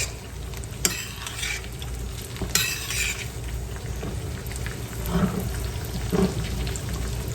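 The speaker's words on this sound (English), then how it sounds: "I love to baste my egg. I like the way it helps it cook, as well as the flavor." An egg sizzles in a skillet as it is basted, a continuous crackling fry with bursts of spooned fat and occasional utensil scrapes, close and steady.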